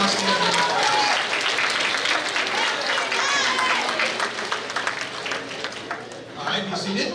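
A school awards day audience applauds student ambassadors, with dense, loud, continuous clapping and cheering voices mixed in, fading slightly toward the end.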